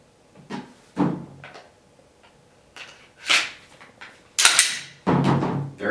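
A Glock or Walther P99 pistol is reassembled by hand: sharp metallic clicks and slide clacks come in separate bursts, with the loudest snaps near the end and quiet pauses between.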